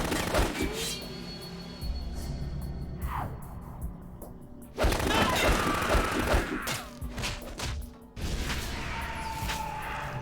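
Gunfire in the Metal Gear 2 video game, rapid fusillades of shots and crashing impacts that come in loud bursts, broken by short quieter gaps, with no talk over them.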